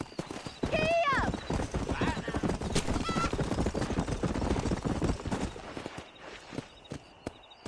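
Horse hooves galloping in the video game Red Dead Redemption: fast, loud, steady clip-clop close by, a neigh near the start and brief voices over the rhythm before it fades.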